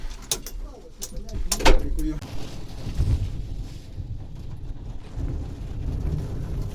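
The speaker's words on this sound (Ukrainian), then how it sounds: "Сидимо в кабіні і лупить дощ." Steady heavy rain patters on a harvester cab during a barley harvest, with sharp cracks early on and a low rumble of thunder rolling beneath.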